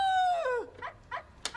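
A person's voice imitates a dog, starting with a long, falling, howl-like cry and then giving three short, sharp barking yelps, close and clear with no other talk.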